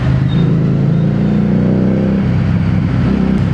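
A Harley-Davidson Street 750 motorcycle with its exhaust running, a loud, close, deep rumbling engine that swells in a rev and then settles back to a throbbing idle, with no talking.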